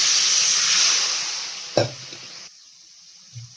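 Ground spices for ghugni frying in a pan give a steady loud sizzle, then a sharp burst of hissing as water is poured in, after which the sound drops to a quieter simmer with a faint clink near the end.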